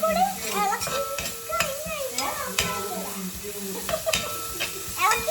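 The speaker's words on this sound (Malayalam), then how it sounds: "സവാള ഇട്ടിട്ട് കുറച്ചും കൂടി അങ്ങോട്ട് ഇളക്കാം" Onions stirred as they fry in a pan for a Kerala-style kadachakka (breadfruit) roast, with a steady sizzle under repeated scraping strokes and children's voices chattering over it throughout.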